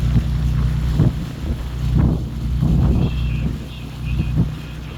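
Boats of all sizes passing on a river in Holland, a steady low engine rumble with wind buffeting the microphone, rising and falling in loudness throughout.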